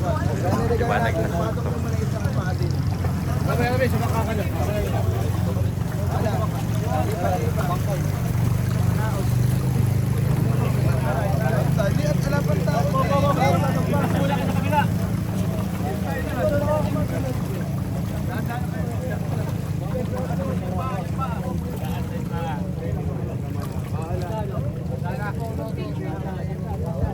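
A boat engine drones steadily in a low, constant rumble throughout a river procession from Hagonoy, Bulacan to Orani, Bataan, Philippines, with voices talking faintly over it.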